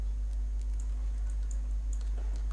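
Computer keyboard keys pressed in a steady run of light clicks during design software work, close and clear over a constant low electrical hum, with no talking.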